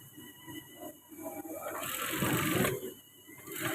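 A sewing machine stitching a women's service uniform runs steadily with a mechanical whir, building to a louder, continuous burst in the middle before easing off, close by with no talk.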